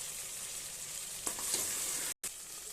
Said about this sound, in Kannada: ಈಗ ಹಸಿಮೆಣಸಿನ್ಕಾಯಿ ನಾಲ್ಕು ಪೀಸು ಕೊತ್ತಂಬರಿ ಪುದೀನ ಸೊಪ್ಪು ಸ್ವಲ್ಪ ಹಾಕಿ ಫ್ರೈ ಮಾಡ್ತಾಯಿದ್ದೀನಿ